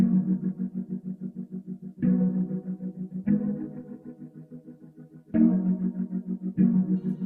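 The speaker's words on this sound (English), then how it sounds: "So I first started with this contact plastic ghost piano." Sustained synth piano chords with a ghostly, chorus-drenched and distorted tone, changing every couple of seconds in a slow, steady progression with no voices.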